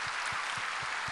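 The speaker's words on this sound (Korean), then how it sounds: "우리 한번 다 같이 박수로." A church congregation at a Sunday worship service applauds together, a dense, even roar of many hands clapping that sounds somewhat distant and reverberant, with faint low rhythmic thumps underneath.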